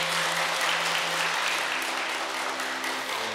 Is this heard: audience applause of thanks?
yes